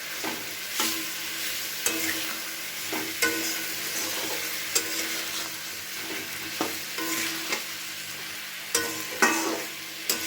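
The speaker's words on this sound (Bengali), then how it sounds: "দিয়ে এবার খুব ভালো করে এটাকে কষিয়ে নিতে হবে মশলার সাথে" Vegetables and ground spice paste fry and get stirred in a pan for a small-fish chorchori, with a steady sizzle broken by regular scraping strokes of a spatula, close and fairly loud.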